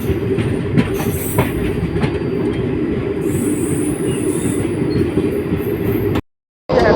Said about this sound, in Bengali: তো ট্রেন মোটামুটি ভালোই চলছে, খারাপ চলছে না।